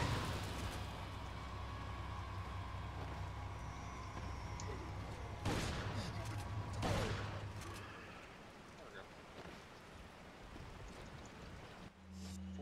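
Two loud shotgun blasts in Resident Evil 4, a few seconds apart, ring out over a low steady game ambience and a constant hum, with a faint voice in the background.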